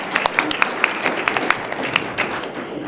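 Sparse, uneven clapping from an audience at a design competition awards event, honoring a piano player; individual claps stand out with a murmur of voices underneath, fairly light and scattered over a few seconds.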